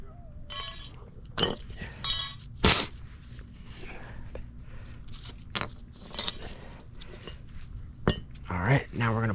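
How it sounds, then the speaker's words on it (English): Metal brake pad clips pulled from the rear brake caliper bracket of a Kia Soul or Forte, giving sharp metallic clinks and jangles in irregular bursts, close up, with a steady background hum between them. "Because our pads came with new clips, we're gonna pull these out"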